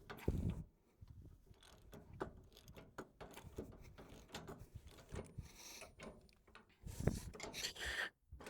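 Metal clicks and ratcheting from a wrench loosening bolts on a tractor, close and intermittent, with quiet gaps between bursts of turning and scraping.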